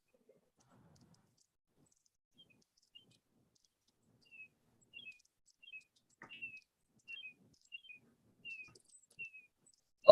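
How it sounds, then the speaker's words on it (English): Faint, sparse bird chirps, short high tweets repeating in small bursts over a quiet background, with a sharp click at the very end. "Oh, I hear birds."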